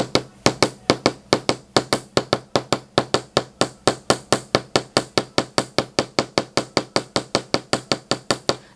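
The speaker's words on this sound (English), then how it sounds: "I'm going to use a chasing hammer, nice and smooth, slightly concave on one end, and I'm going to hammer onto my bench block." A smooth chasing hammer strikes wire on a steel bench block in a fast, even run of about forty sharp metallic taps, each clear and close, with nothing else heard.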